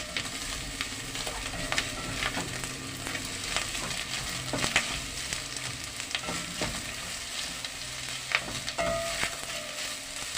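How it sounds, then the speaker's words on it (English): Green and red peppers frying in a pan for spaghetti bolognese, a steady close sizzle with occasional scraping stirs and small pops throughout, no voices. "Next, I'm adding in the green pepper and the red pepper."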